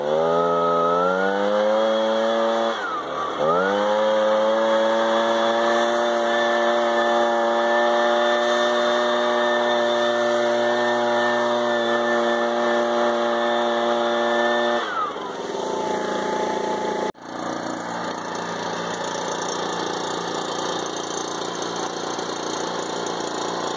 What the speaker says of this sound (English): When you're using the leaf blower, if you're giving it some fuel and pull that down, it acts similar to like a cruise control.